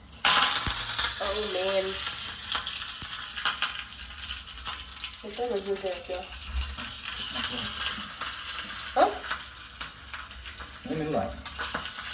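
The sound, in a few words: crackling sizzle of tempering in hot oil while making dhokla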